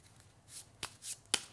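Dominion playing cards being shuffled by hand, giving three crisp riffling bursts spaced about half a second apart, close and fairly loud, with no talking.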